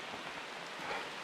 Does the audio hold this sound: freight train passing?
no